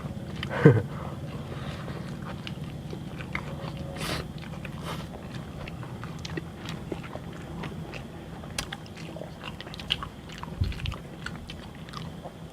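Someone bites and chews bitter melon up close, eaten alongside durian sticky rice, with repeated crunchy bites and wet mastication sounds, a sharp louder bite near the start and steady chewing throughout.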